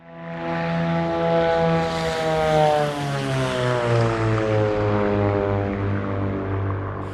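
A Beechcraft Baron or Bonanza propeller engine in Microsoft Flight Simulator drones loudly and steadily, its pitch slowly dropping as the tone shifts, heavy and close with no voices.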